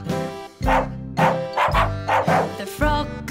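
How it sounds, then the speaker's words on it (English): A dog woofs several times in a quick, bouncy rhythm, set against bright, loud music from a children's sing-along song. "The dog goes woof."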